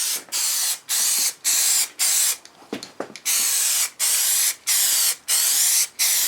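An aerosol can spraying Plasti Dip coating in a steady rhythm of about ten loud hissing passes, each cut off by a short pause, with a brief clattering break partway through.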